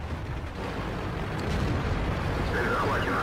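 Tank cannon fire in the online tank game World of Tanks during a Strongholds battle, a loud booming rumble that stays continuous and dense for the whole stretch, with faint voices in the background.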